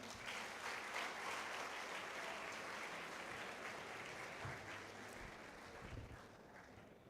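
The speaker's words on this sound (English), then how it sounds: "Can we hear a big applause for him?" A large audience at a college induction ceremony claps steadily, the dense applause filling the hall at an even level for the whole stretch and tapering slightly toward the end, with no voices over it.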